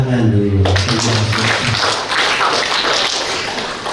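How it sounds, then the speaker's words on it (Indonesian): Applause breaks out at a stakeholder gathering in Lombok, a dense wash of clapping rising right after a speaker's voice and continuing steadily under lingering talk. "Mungkin tepuk tangan dulu."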